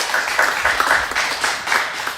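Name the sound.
congregation applause of encouragement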